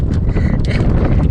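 Strong wind at sea buffets a small fishing boat, a loud, rough rush of gusts battering the microphone with no pause.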